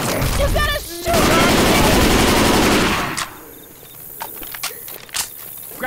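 Rapid automatic gunfire in the Left 4 Dead zombie shooter, a loud sustained burst over a couple of seconds, then scattered single shots and game effects, with some voices in the mix.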